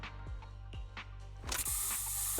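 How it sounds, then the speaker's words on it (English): A special Bangboo spray in the Zenless Zone Zero video game lets out a loud, steady hissing burst in the second half. Softer game sounds come before it. "Here, have a taste of this special Bangboo spray."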